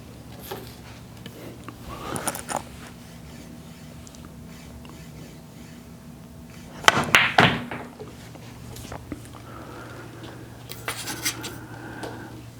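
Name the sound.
pool cue striking ball for a draw shot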